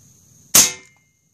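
A single sharp shot from an Airforce Escape UL .22 air rifle, loud and close, with a brief decaying report and no voices.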